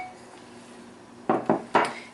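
Uncooked beans tipped into a big bowl of vegetables, landing in three quick clattering bursts against the bowl, close and fairly loud after a quiet stretch.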